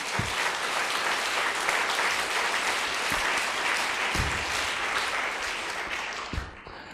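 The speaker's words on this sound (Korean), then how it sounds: "박수로 다시 한번 주님께 영광 돌리겠습니다" A church congregation at a Sunday worship service claps together in dense, steady applause that fills the room for several seconds, then gradually thins out.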